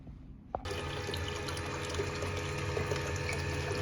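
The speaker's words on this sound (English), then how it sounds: "we've got water coming through the system" Water starts flowing through a portable gold extractor box fitted with a manual valve, a sudden onset after a brief click, then a steady rushing, gurgling flow with a low pump hum underneath.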